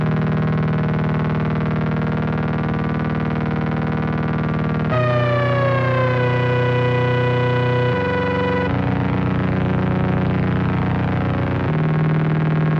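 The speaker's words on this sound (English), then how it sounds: "So there's one other bass element on the Analog 4 which I'll just bring in now." A thick, buzzy bass synth from an Elektron Analog 4 plays alone, holding sustained notes that shift pitch in a few steps, with one gliding, sweeping section partway through, loud and steady.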